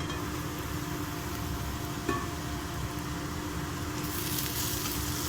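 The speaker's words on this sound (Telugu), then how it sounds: "ఆనియన్ ఫ్రై చేసుకున్నాము, బాగా మగ్గాలండి ఆయిల్లో" Onions fry in oil for a meal maker dish, a soft steady sizzle with faint stirring and a single small scrape partway, staying fairly quiet throughout.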